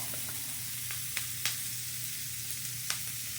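Onion frying in bacon grease in a pan, with a steady close sizzle and crackle running throughout and a few sharp pops spattering over it.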